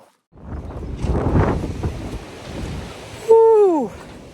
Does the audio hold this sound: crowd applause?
no